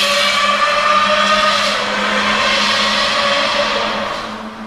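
A Lamborghini V12 fitted with a 6-in-1 header screams loudly at high revs, a sustained shrill wail that holds steady and then eases off as it fades near the end.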